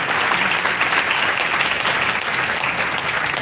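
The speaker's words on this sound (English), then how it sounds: "I think we'll have to give big round of applause for these two gentlemen." Loud, continuous applause from an audience at a Pharmig India pharmaceutical conference session on gowning, honouring two panel speakers, with dense clapping at steady volume and no talk over it.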